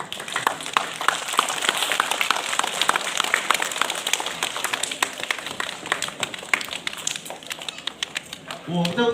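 An audience claps at a school half-yearly exam results ceremony, steady crowded applause sustained throughout, moderately loud and slightly distant, with a voice speaking over it.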